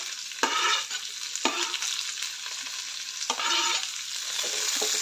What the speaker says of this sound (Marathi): सर्व मिक्स करून चांगलं मऊ होईपर्यंत परतून घ्यायचं आहे हे सर्व।